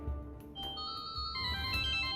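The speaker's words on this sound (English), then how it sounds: "I could give the residents a little taste of the future with one of the ringtones." A mobile phone ringtone plays inside an X-Files video game set in 15th-century Florence, a bright electronic melody of sustained tones over a low background hum, fairly quiet and with no speech.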